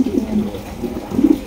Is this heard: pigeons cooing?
yes